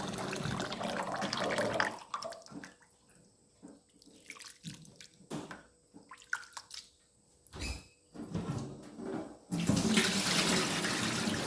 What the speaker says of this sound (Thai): ล้างไปเรื่อยๆจนหมดน้ำขาวนี่แหละ